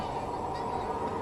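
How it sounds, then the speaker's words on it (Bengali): A train passes near a family home, heard as a steady, distant rumble and rushing noise that holds evenly throughout without distinct peaks. "এটা ট্রেন যাওয়ার শব্দ।"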